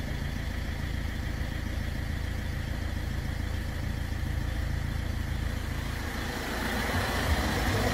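Ford Fiesta engine idling steadily after being started during an antifreeze and oil cooler repair, a constant low rumble close by with no talk.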